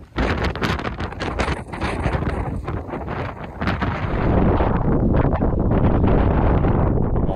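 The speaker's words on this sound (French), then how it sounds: "Il y avait un vent fort, mais qui était entre guillemets aléatoire." Strong, gusting wind on a snowy mountain during a ski outing buffets the microphone in a loud, continuous roar that swells and grows steadier toward the end.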